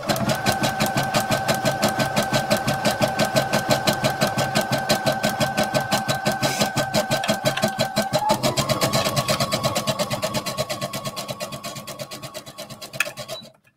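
Serger-edged sports bra fabric running through a sewing machine on a zigzag stitch, a steady rapid mechanical whir with a fine pulsing rhythm and a slight pitch shift partway through, close and continuous before slowing to a stop at the end.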